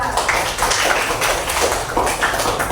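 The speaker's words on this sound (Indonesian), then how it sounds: "Beri aplaus untuk kelompok 2." Applause from a classroom audience for a student group presentation, a steady dense patter of many hands clapping at even loudness throughout, with no talking over it.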